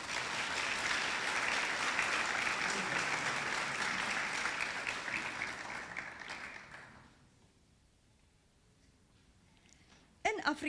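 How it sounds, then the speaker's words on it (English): Audience applause at a high school senior prize-giving and closing ceremony, a steady broad roar of clapping for about seven seconds that fades out, followed by near silence and a brief noise at the end. "You may applaud."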